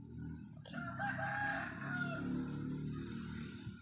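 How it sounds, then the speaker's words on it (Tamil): A large flock of foraging chickens clucks nearby while a rooster crows clearly over them, a busy, continuous farmyard chorus with no talking. "கோழி நிறையா இருக்குது ஃப்ரெண்ட்ஸ்."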